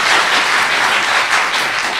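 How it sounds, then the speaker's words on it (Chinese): A church congregation at a Taiwanese-language service breaking into loud, dense applause for the pastor, a continuous wash of clapping from many hands with no talk over it. "拍手一下吧，好，"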